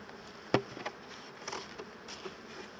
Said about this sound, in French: Attention les abeilles.